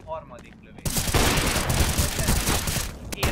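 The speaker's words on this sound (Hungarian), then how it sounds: "Harmadik lövés." Gunfire in the video game CS:GO breaks out suddenly after a short quiet moment: a loud, dense burst of rapid shots and booms that carries on for a few seconds.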